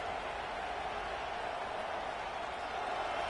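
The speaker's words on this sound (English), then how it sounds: "This crowd bringing the energy and noise early." Stadium crowd in a college football video game, Kansas State at Florida State, a constant broad roar of cheering fans at moderate level, with no distinct voices.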